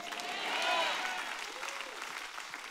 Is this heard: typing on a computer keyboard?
no